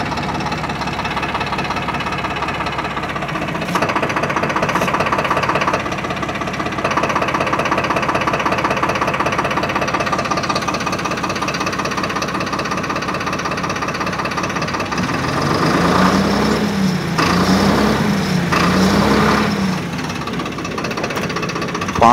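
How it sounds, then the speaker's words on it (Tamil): A Swaraj 969 FE tractor with a 70 hp CRDI engine runs steadily, giving a loud, close, knocking diesel chug that rises in level partway through and then falls back. "பாருங்கள் இன்ஜின் நாய்ஸ் எந்த அளவுக்கு இருக்குதுன்னு சொல்லிட்டு"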